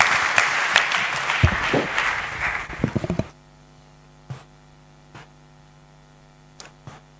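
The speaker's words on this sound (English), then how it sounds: "I think we should all welcome him onto the dais with a big round of applause." A gathering at a 2012 HR caucus breaks into a dense round of applause welcoming a speaker onto the dais. The clapping stops abruptly partway through, leaving a steady electrical hum and a few faint knocks.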